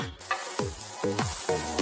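Steady loud sizzling of pav bhaji masala spices frying in a hot pan, with rhythmic scraping strokes of a spatula stirring about three times.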